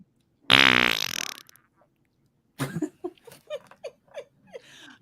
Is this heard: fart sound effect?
yes